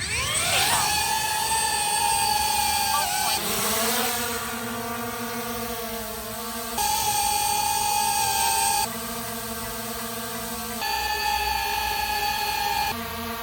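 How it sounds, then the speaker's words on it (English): A DJI Avata 360 and an Antigravity A1 drone fly in alternating turns, each giving a loud, close, high-pitched buzzing whine with strong tonal layers. The pitch shifts slightly whenever one drone takes over from the other. "Let's listen to how the two drones sound in a direct comparison."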